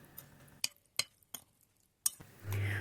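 A spoon knocks and clinks against a bowl while blood sausage filling seasoned with pepper and salt is stirred, giving several sharp, separate taps in a quiet room, followed by a low rumble at the end.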